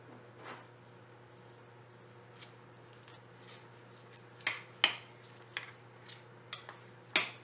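Chopped cabbage being mixed by hand into pakora batter in a bowl, a quiet series of irregular wet squelches and soft taps over a low steady hum, sparse at first then more frequent.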